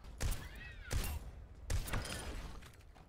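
Doomfist's glove shotgun firing in Overwatch: three loud, sharp blasts spaced roughly evenly, each with a short ringing mechanical tail, with no other sound.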